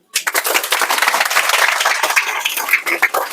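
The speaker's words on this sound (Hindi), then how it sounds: "अब चाहेंगे हम जोरदार ताली" Loud, dense applause from a classroom of students fills the whole span, a steady burst of many hands clapping close by with no talk over it.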